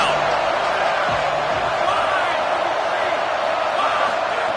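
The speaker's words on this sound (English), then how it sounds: "Decibels rising as the crowd gets behind this defense on third down" A stadium crowd roars steadily in an NCAA football game as the defense lines up on third down, a broad, continuous wash of noise under a commentator's voice.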